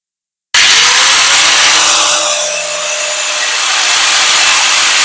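DCK KSM13-100 angle grinder spinning freely with no load: after a brief silence it starts abruptly into a loud, steady high-pitched whine with a constant motor hum, running alone without talk.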